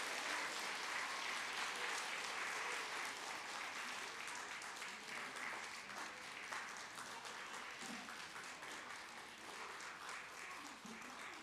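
A church congregation claps together in a blessing for three newly appointed teachers, a faint, distant wash of applause heard across the sanctuary and continuing steadily, fading slightly toward the end.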